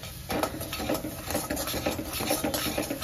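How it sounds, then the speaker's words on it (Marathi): A spoon scrapes and stirs roasted chole masala in a pan, repeated close rhythmic scraping over a faint sizzle. "ते चांगलं मिक्स करून घ्यायचं, मस्त झालेला भाजलेला आहे मसाला"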